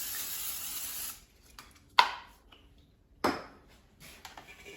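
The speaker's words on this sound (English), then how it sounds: "I'm also going to spray them with a non-stick cooking spray so the muffins don't stick to them" Non-stick cooking spray hisses onto six muffin cups set in an air fryer, a steady spray at first and then two short sharp bursts with quiet gaps between.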